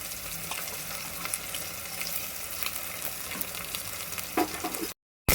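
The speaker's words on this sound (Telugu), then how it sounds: "ఇది కొంచెం పచ్చి వాసన పోయేదాకా వేయించుకోవాలండి." Ginger garlic paste fries with onions in a pan, giving a steady close sizzle with occasional stirring scrapes, then a brief cut to silence near the end.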